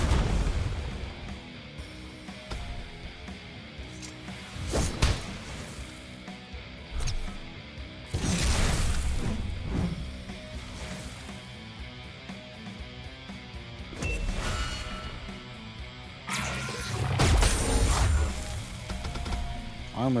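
Video game grenade explosions and combat booms, several loud sharp bursts spaced irregularly over a continuous mechanical background, with no voices.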